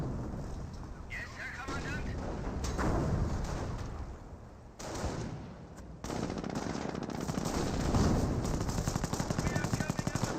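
Rifle grenade blasts and sniper shots ring out in a Company of Heroes battle, with heavy bursts of gunfire and booming impacts in clustered volleys, partly under a commentator's voice.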